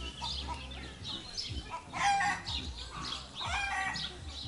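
A Dutch white-crested chicken crows and clucks close by on a farm, several raspy crowing bursts and short calls with brief pauses between them, heard alone without talk.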